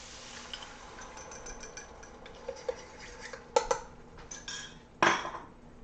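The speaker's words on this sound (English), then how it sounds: "I'm going to add in my beef broth." Beef broth is poured into a pot of browned onions and garlic, with faint liquid sounds and a few sharp metallic clinks of a utensil or can against the pot, quiet and close.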